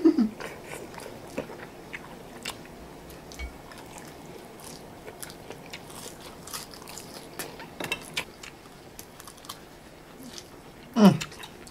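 Close, soft eating sounds of spicy rice noodle salad with squid, with intermittent crunchy bites and wet chewing clicks scattered over a quiet background and no talk.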